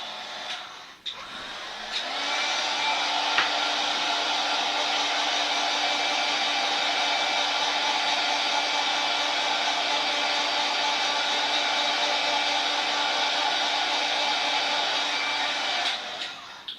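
An electric drying tool blows air over a handmade craft card, a constant loud whooshing hum that switches on after a click, runs steadily and close for about fourteen seconds, then cuts off.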